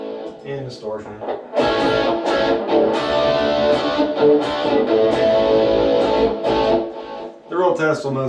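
A distorted electric guitar, an SG-style copy with Guitar Madness 1984 pickups, plays chords and notes on the neck pickup, gritty and sustained, loud and close, with a couple of short pauses between phrases.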